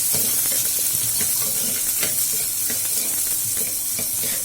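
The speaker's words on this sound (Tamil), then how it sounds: "வெங்காயம் நல்லா வதக்கணும்" Onions sautéing in oil in a pan for a vappam poo curry, a loud close sizzle with intermittent stirring scrapes throughout, no voices.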